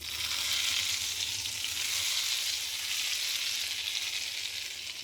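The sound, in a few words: spices sizzling in hot ghee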